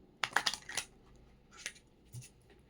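Tarot cards are shuffled by hand in quick, crisp bursts of papery clicks and slaps, a flurry followed by a few softer taps, close and quiet with no voices.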